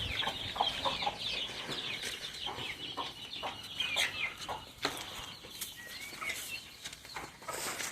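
A hen clucks in short, scattered bursts on a poultry and quail farm, with other soft bird chatter and rustling around it, fairly quiet and close.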